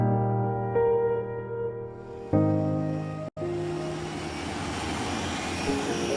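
The engine of the Bluebird K7 jet boat on the water at the Isle of Bute drones and builds, a low rumbling roar that swells after a brief cut and keeps running loud and steady.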